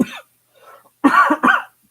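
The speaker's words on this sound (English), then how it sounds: "Sorry for the coughing. Got all choked up." A person coughs close to the microphone: one short cough, a faint throat noise, then two loud harsh coughs in quick succession.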